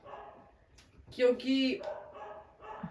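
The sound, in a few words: dog barking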